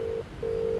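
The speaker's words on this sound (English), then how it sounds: "Mom helped us dial." Two steady touch-tone beeps from a telephone keypad dialed inside a red phone booth, a short tone then a longer one after a brief gap, clear and close with no talking.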